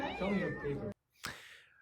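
A person imitates a cat with a drawn-out, wavering meow, then a short pause and a second breathy, falling meow.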